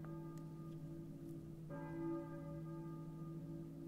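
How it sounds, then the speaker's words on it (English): A church bell tolls in the Silent Hill video game, one long ringing strike fading slowly before a second strike sounds, its hum sustained and resonant against a quiet, eerie background. "a church bell, I think. But who's ringing it?"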